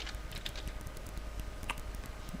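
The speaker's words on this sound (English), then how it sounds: "So I'm going to type ICT" Fingers tap rapidly on a computer keyboard, a quick irregular run of light clicky keystrokes heard up close over a faint steady hum, with no talking.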